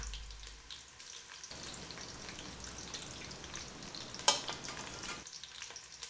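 Onions fry in oil in a pan for a chicken biryani, giving a soft, steady sizzle and bubbling crackle with light stirring scrapes and one sharp clink, quiet and close with no voices.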